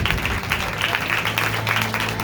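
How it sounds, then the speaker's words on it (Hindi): Church congregation clapping hard to welcome first-time visitors during a sermon, a steady dense wash of applause filling the whole stretch with low murmuring beneath. "आइए इनको जोरदार तालियों से वेलकम कीजिए"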